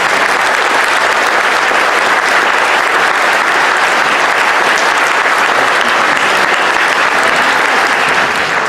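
Sustained, loud applause from an audience at a panel debate on gun rights, steady dense clapping that fills the whole stretch without pause and without talk over it.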